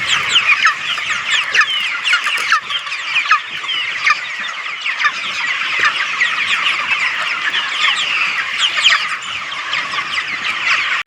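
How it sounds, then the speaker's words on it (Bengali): A flock of chickens on a farm clucking busily while being fed, many overlapping calls at a steady, lively pace, close and loud with no talking. "যা খাবার দিচ্ছে সব মুরগি এদিক থেকে ওদিক করছে"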